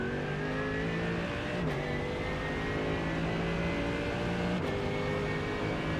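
McLaren race car in iRacing at Sebring, its engine holding a steady, continuous drone with shifting pitch and two brief gear-change dips, no talk over it.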